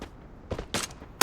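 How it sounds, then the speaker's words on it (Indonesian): Gunfire in a mobile video game during a grand final tournament match, with a few short bursts of shots followed by a louder final burst at the end, no talk over it. "Itu dia, tembakan dari Moka"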